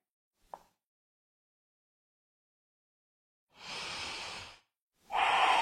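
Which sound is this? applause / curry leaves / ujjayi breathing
ujjayi breathing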